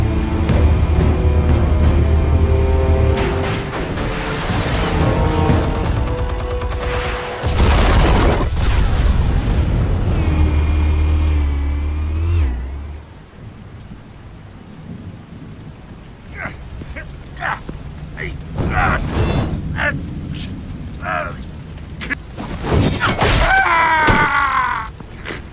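Explosives detonating in Batman: Vengeance, loud booming blasts with deep rumble in the first half, then a quieter stretch broken by scattered cracks and bursts.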